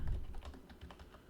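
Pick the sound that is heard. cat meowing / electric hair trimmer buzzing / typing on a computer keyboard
typing on a computer keyboard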